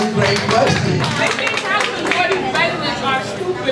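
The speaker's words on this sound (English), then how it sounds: "can we get applause for that?" Audience applause at a meeting presentation, a dense crowd clapping steadily throughout with crowd chatter and voices mixed in.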